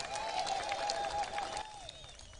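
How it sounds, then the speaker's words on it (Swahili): Crowd applause at a political rally with a high, sustained whistle riding over it, loud at first and then easing off slightly toward the end. "tuko na Eugene Wamalwa kutoka Mlembe Nation, tupigie makofi"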